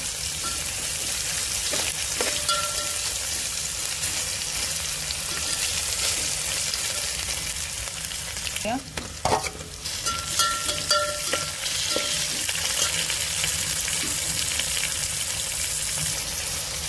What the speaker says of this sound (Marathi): छान असा आपण कांदा परतून घेऊया।